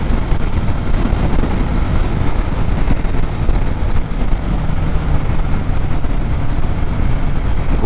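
Street Triple R motorcycle riding on an open road, a loud, continuous rush of wind buffeting the microphone that masks the engine, steady with no breaks.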